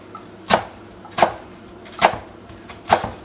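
A knife chops half an onion into small cubes on a board for chicken soup: four sharp, separate thuds about three-quarters of a second apart, close and clear, with no talk.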